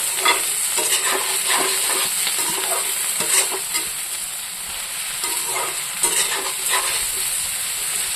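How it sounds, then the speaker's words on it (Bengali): Brinjal and onion sizzle in a hot pan as a spatula stirs and scrapes in an irregular rhythm, a steady close frying hiss with no voices. "এটার সাথে দিয়ে দেবো এই যে বেগুন, একসাথে ভাজবো"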